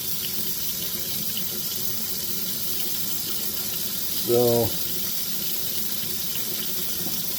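Tap water runs steadily into a sink throughout, close and continuous, while a voice briefly speaks over it.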